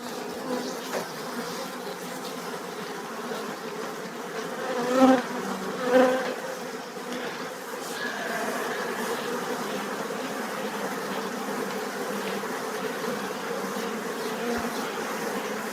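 Many honey bees hum in a steady, dense buzz close by at a hive, with a couple of louder swells as individual insects pass near.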